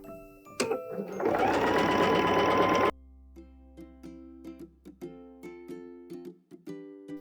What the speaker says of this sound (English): Let's go ahead and sew this up at a 1/2 inch.